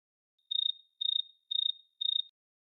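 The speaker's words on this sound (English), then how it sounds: "we need a crickets chirping sound effect" A synthesized cricket chirp sounds four times at an even pace, each a short, clean, trilling pulse, alone and moderately loud against silence.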